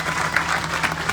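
A funeral crowd clapping for a speaker, a brief burst of dense, even applause heard throughout.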